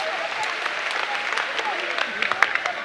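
An audience in a spiritual gathering applauds a boy, steady scattered clapping with sharp individual claps rising toward the end, moderately distant, with a voice speaking over it.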